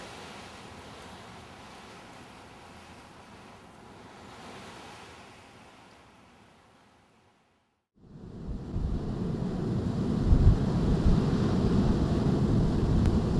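Steady wind roars with surf-like noise on the Oregon coast, fading briefly to near silence before returning louder and fuller, buffeting the microphone.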